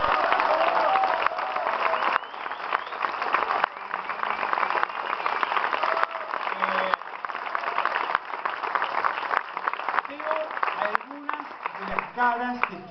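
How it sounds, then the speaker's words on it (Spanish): An audience at a political talk in a cultural centre applauds continuously, a dense crowd clapping with scattered cheers and voices mixed in, fading slightly toward the end. "Y el cierre es Daniel Filmus, que merece, por supuesto, igual que Carlos Heller, un aplauso."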